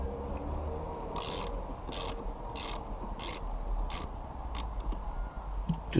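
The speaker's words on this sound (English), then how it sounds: "grab your 10mm ratchet socket and undo the negative battery terminal." Ratcheting of a 10mm socket wrench loosening the negative battery terminal of a BMW Z4 E89, heard as a series of about eight short clicking bursts at a steady pace, fairly close, over a low background hum.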